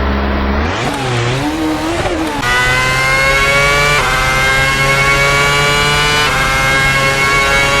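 A 2009 F1 race car engine in a video game screams loudly and continuously, revving and shifting pitch upward with brief gear changes, close and dominant throughout.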